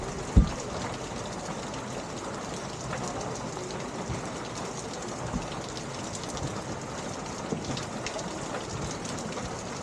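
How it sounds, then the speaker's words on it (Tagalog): Heavy rain pours steadily in a dense, loud, unbroken hiss with scattered drips and one sharp knock near the start. "Grabe naman, ang lakas-lakas ng ulan."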